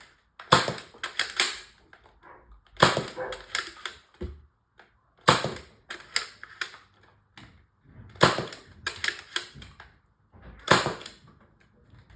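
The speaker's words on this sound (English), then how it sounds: "Loaded up with the Adventure Force waffle darts. Let's see how this does." A modified toy dart blaster fires Adventure Force waffle darts in several sharp, close mechanical bursts spaced a couple of seconds apart, each a quick clattering snap with rattling in between.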